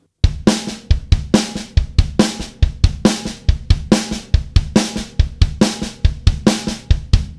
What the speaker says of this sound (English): Now we're going to add an accent on the snare drum on the first hit of that snare drum.